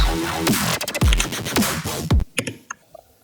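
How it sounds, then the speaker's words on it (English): Heavy dubstep-style electronic bass hits in a speedcore drop, with sweeping sub-bass drops and gritty, growling upper textures, several bursts in quick succession before trailing off into near silence. "5 basses sound like this."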